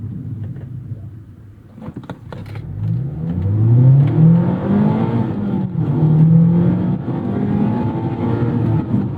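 Mazda Miata ND3 Club, soft top with BBR coilovers, accelerates at full throttle, its engine note rising steadily through the revs, a brief lift for a gear change, then climbing again, loud and close with no talk.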